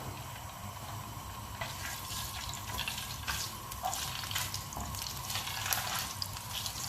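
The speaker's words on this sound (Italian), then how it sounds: "Un bel giro d'olio in padella, la padella è già calda, metto i filetti di alici" Anchovy fillets fry in hot olive oil in a pan with a steady, close crackling sizzle, dense bursts of spattering popping throughout.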